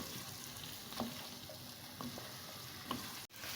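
Bottle gourd (lauki, about half a kilo) being stirred into roasted masala in a pan for lauki bhujia, a soft steady sizzle with a few light spoon scrapes and taps, close and alone without talk.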